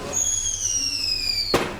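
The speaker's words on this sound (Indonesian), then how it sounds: "Wah, ada merconnya sekalian. Kembang api dan lain sebagainya, meriah itu." A firework whistles high and falls slightly in pitch, then a single sharp bang follows, set amid Tarawih-night firecrackers and fireworks. It is fairly close and heard without speech.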